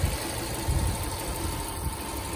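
A Subaru Impreza XV engine idles with a steady low throb and faint irregular knocks, heard close and alone.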